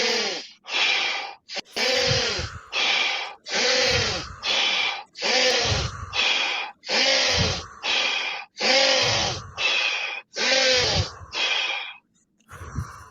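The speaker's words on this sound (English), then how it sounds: "15 seconds of in through the nose, out through the mouth as hard as you can" Forceful breathing, sharp inhales through the nose and hard exhales out through the mouth, repeated in a fast steady rhythm of about a dozen loud close-up breaths with no talking.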